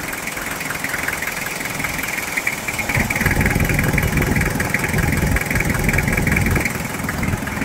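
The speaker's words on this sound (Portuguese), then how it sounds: "é a primeiríssima partida de um motor a diesel quando você faz um serviço como esse." A Toyota Hilux SR5 2.8 diesel engine runs for the first time after an injection pump service, idling steadily with a knocking clatter that grows louder and rougher midway.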